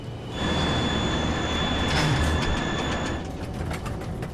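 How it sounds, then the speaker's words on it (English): An airliner roars just after touchdown as its thrust reversers engage and the brakes take hold. The heavy, steady rumble carries a thin whining tone and eases slightly near the end. "The captain engages the thrust reversers and hits the brakes."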